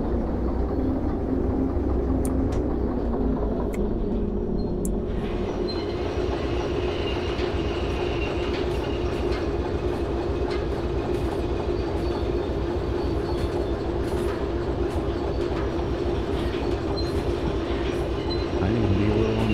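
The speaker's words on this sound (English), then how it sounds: "Train sounds." Train rolling on rails in the Derail Valley railway game, a continuous low rumble with rhythmic clickety-clack and occasional sharp metallic ticks, steady and close throughout with no talking.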